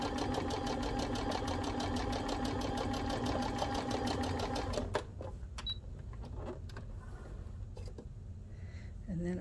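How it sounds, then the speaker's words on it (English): A modern zig-zag sewing machine stitches a seam with a rapid, even mechanical patter for about five seconds, then stops, leaving soft clicks and handling noises close by. "I'm gonna re-sew this seam"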